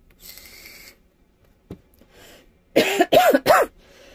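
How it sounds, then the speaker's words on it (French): A person coughs several times nearby: a couple of soft, scattered coughs followed by three loud, harsh coughs in quick succession. "excusez-moi si je tousse un petit peu"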